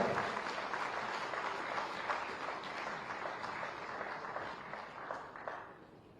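Applause from the audience at a security leadership summit inauguration, a broad wash of many hands clapping steadily at moderate volume, gradually thinning toward the end.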